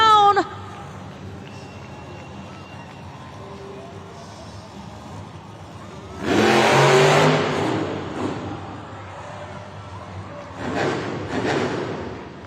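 At a Monster Jam freestyle run in Austin, Texas, the Gravedigger monster truck's engine lets out two loud revving roars after a quieter stretch, heard from across an arena with faint announcer voices in the background.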